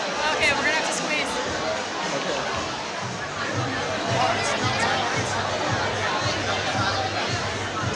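A crowd at a Lunar New Year celebration fills the air with steady, overlapping chatter and babble, a dense hubbub close by with no single voice standing out.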